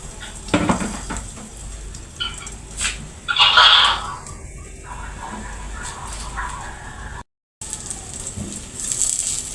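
Tuna, drained of its liquid, goes into a pan for an omelette, followed by a soft sizzle and clinks of a utensil against the pan, moderately close, with a brief silent gap near the end.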